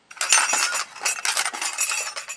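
Glass of water clinking, a bright, close run of rapid tinkling glass knocks and rattles over a couple of seconds, steady in level with short pauses, without voices.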